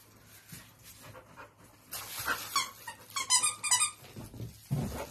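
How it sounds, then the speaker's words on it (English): A pet dog pants and plays with a squeaky toy at home, with rapid bursts of squeaking and snuffling close by and no talking. "Most of his toys have some kind of squeaker in it"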